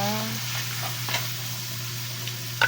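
Beef pansit noodles are stirred in a pan, giving a continuous sizzle with a few soft scraping knocks, near and steady, over a low background hum.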